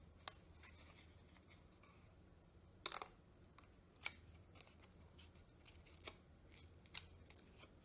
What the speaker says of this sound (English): you'll need some scissors. So we'll just trim the edges